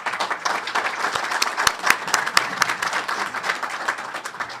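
Conference audience in Montréal applauding steadily, a dense wash of many hands clapping with a few sharper individual claps standing out, sustained throughout without talk.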